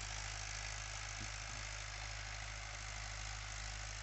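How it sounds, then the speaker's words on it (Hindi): A 2019 Mahindra 575 DI tractor fitted with a 6-foot rotavator idles steadily, a continuous low droning engine hum with a faint rhythmic knock, alone and unchanging throughout. "महिंद्रा 575 DI 6 फीटर रोटावेटर के साथ में।"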